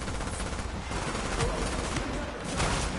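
Rapid gunfire in a shooter game fighting JTF and hostiles in an underground area: dense, continuous bursts of automatic shots overlapping into a sustained rattling fusillade, loud and close throughout.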